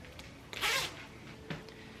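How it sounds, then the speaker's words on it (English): A sweater zipper being pulled, heard as a brief close rasping zip followed a moment later by a shorter second zip, quiet and alone with no talk. "this sweater, it actually zips."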